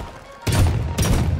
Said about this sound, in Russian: Давай я отсюда попытаюсь стрелять.